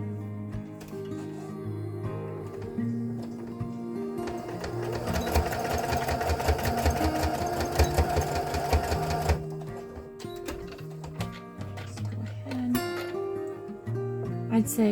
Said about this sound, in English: I'm going to take it to my sewing machine